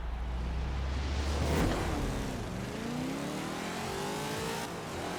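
A car in the Forza Horizon 4 racing game, set up as a wheelspin drag build, launches hard on a wet track. The engine roars loudly and climbs steadily in pitch, then holds near the rev limiter.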